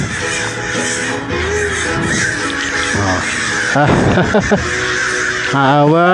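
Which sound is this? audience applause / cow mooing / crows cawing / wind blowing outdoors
crows cawing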